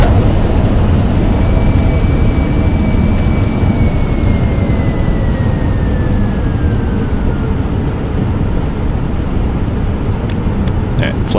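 A FlightFX Vision Jet in Microsoft Flight Simulator throttled back to idle: a loud, steady engine roar with a whining tone gliding gradually downward as the power winds down.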